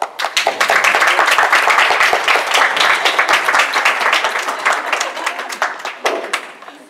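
Steady, dense audience applause at an outdoor show-jumping competition, many hands clapping together at full strength before tapering off near the end, with little else heard.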